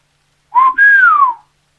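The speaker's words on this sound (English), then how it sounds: "inspecting the hollow limb just before he whistled into it" Someone whistles into a hollow oak branch, giving a short rising note, a brief break, then a longer sliding tone that falls away, heard clearly and alone.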